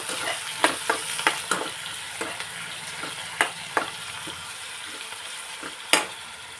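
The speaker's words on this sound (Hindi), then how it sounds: "और इसमें अब डाल दूँगी मैं ये लहसुन जो मैंने कूट के अच्छी तरह से इसको" Crushed garlic goes into a hot pan of frying onions and sizzles, with a few sharp clatters and stirring knocks over a soft, steady hiss and no talking.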